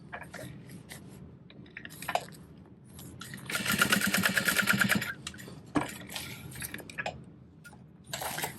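A sewing machine bastes a backpack lining, running in short bursts with a dense, loud stretch of rapid stitching in the middle and brief pauses and handling noises between runs.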